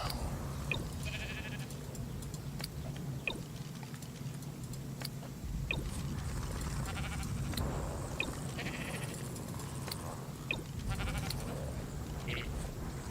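Sheep bleat now and then across a ranch pasture in the survival game Ark Survival Ascended (Ragnarok map), set against a steady low hum and scattered game sounds, with no talk.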